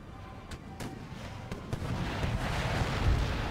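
Gunfire from an Empire: Total War battle rolls on as a dense, rumbling din. A few sharp cracks stand out early, and the volley noise builds louder toward the end.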